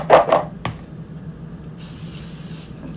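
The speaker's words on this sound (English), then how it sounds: "and we're just going to spray it." Cooking spray hisses from a can onto potatoes for air frying in two short close bursts, followed by quieter handling noises and a faint steady background hiss.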